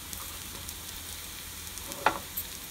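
Spinach pakoda fry in hot oil in a pan, a steady low sizzle throughout with a brief louder crackle as pieces are turned, close and alone.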